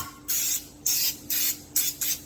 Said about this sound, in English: get us a pan with some non-stick on it